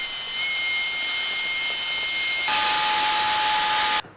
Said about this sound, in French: on va venir appuyer le roulement sur le gabarit et la fraise va suivre la courbe et bouffer le bois qui dépasse